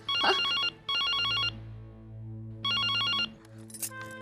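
A telephone rings in bursts of a warbling electronic tone, three rings separated by short pauses over a low background hum, close and clear.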